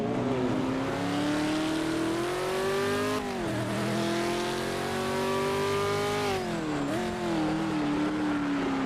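A race car in Project Motor Racing on PS5 slides under heavy braking, its engine note rising steadily, dropping sharply, then climbing again in loud, continuous tones with no talk over it.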